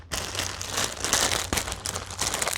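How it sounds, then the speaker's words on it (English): Scissors cut open the plastic wrapping around a pair of V2S SE5222 headphones, giving a steady, close crinkling and crumpling of plastic film that runs throughout with a few sharper snips. "the device, which is still wrapped in plastic from Lazada, and of course we have our pair of scissors, and let's open this"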